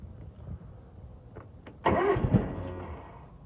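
A cold lawn mower engine, choked up for starting, catches in a loud burst of combustion partway through and sputters roughly for about a second before fading, with quiet rustling before the attempt.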